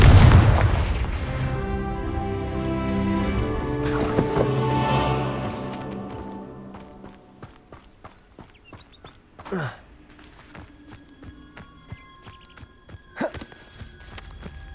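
A Confringo blasting spell explodes in the Hogwarts Legacy video game, a loud booming burst at the start that decays into a ringing tail, followed by scattered sharp clicks and a couple of brief crackling impacts; no talking.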